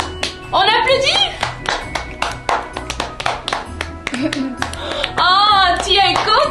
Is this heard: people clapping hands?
yes